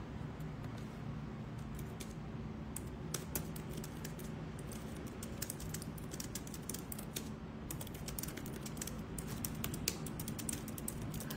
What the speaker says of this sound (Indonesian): aku tadi lagi ngetik sedikit ya